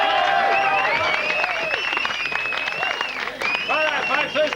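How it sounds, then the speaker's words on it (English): A studio audience at a boxing demonstration in Summer Bay breaks into a steady round of applause mixed with cheers and whistles. It runs loud and close for the whole stretch, with voices rising over the clapping. "Big round of applause."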